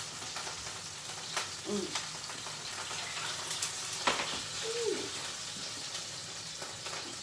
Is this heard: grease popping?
yes